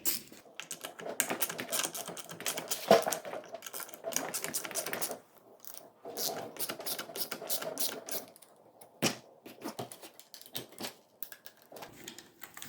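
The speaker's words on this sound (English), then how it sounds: "Gotta use my socket wrench." A socket wrench loosens bolts on an old Craftsman weed trimmer, making rapid ratcheting clicks in bursts separated by short pauses, close and fairly quiet.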